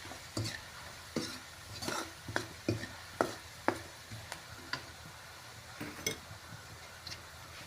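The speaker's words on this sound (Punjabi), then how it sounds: "ਨਮਕ ਮਿਰਚ ਮਸਾਲਾ ਹਲਦੀ ਧਨੀਆ ਪਾਊਡਰ ਸਾਰੇ ਜੀ ਨਾਰਮਲ ਮਸਾਲੇ ਪਾਤੇ ਹਾਂਜੀ ਪਾ ਕੇ ਜੀ ਆਪਾਂ ਇਹਨਾਂ ਨੂੰ ਵੀ ਭੁੰਨ ਲਾਂਗੇ" Salt, chili, masala, turmeric and coriander powder roast in a pan with pointed gourd and carrots: a spoon scrapes and taps in an irregular rhythm over a faint sizzle, close by, with no talking.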